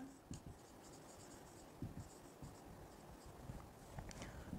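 Pen writing on paper, quick scratching strokes with small taps and pauses, close but soft over a constant background noise.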